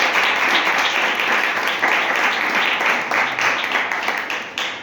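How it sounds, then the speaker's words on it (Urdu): A church congregation gives loud, sustained applause, a dense wash of many hands clapping together from nearby that carries on for several seconds before thinning out toward the end. "خدا یسوع مسیح کے جلال کے لیے زوردار تالیاں بجائیے"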